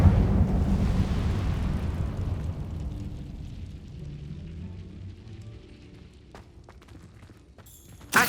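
An Incendio fire spell cast in Hogwarts Legacy, a loud whooshing, rumbling burst at once that slowly fades into a low crackling tail, ending in a sharp short impact.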